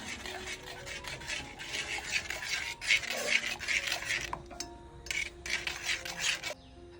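Mango kashayam decoction being stirred steadily in a pot, a continuous close scraping and rubbing of the spoon against the pot with brief pauses.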